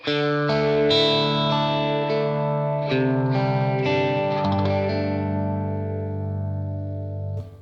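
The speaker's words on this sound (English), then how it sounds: "pedal number 4 brings in a phaser" Electric guitar played through a pedal's phaser effect, sustained strummed chords with a swirling, sweeping tone, loud and continuous with no talk until a fade at the end.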